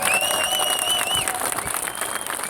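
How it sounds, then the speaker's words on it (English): Crowd applause and cheering at a gun rights rally fill the space, a dense wash of clapping with a few whistles on top. "Give him a big round of applause."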